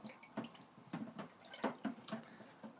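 Yeast being stirred into cider liquid, giving soft repeated sloshing and clinking strokes at a steady rhythm, close by and fairly quiet.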